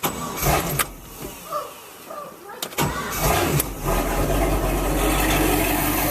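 A Mercruiser boat engine cranks briefly, catches, and settles into a steady loud running drone after a few seconds of starter whir and clatter.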